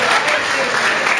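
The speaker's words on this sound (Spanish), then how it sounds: "hagámosle un aplauso a los bailarines" Loud, dense applause from an audience at a folk music gathering, clapping for a pair of dancers, a continuous close wash of hands that fills the whole moment.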